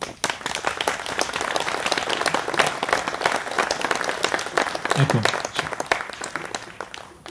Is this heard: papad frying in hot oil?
no